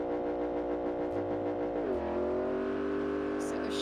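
Drift car engine revving in the BeamNG driving game, a loud sustained engine tone that climbs then drops and settles into a steady higher drone, with people talking over it.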